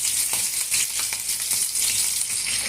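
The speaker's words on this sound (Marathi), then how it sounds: "फोडणी करण्याकरता आपण तेल गरम केले आहे। त्यामध्ये मिरच्या आणि लसूण टाकून" Green chillies and garlic sizzling in hot oil for a tempering, a steady bright crackle and hiss close up, with a few sharper pops and stirring sounds and no talking.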